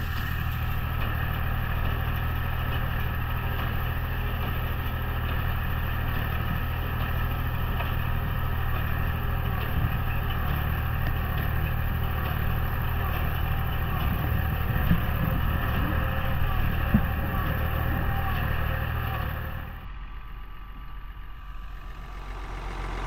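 A farm tractor runs a hay baler, a steady low engine drone with mechanical rumble holding for most of the stretch, then dropping to a quieter idle near the end.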